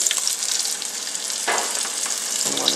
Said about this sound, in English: That's how you want to hear your grease when you drop in any type of meat